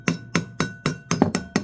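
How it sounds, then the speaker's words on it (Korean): A hammer strikes thin sheet metal clamped in a vise, bending it over. Six sharp metallic blows ring out at a quick, fairly even rhythm, loud and close, with no talking. "요런 망치로, 이렇게 망치로, 이렇게 사사사사 두들면, 이 쇠가 야무지만 얇은 쇠는 무릅니다"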